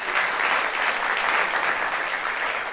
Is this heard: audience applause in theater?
yes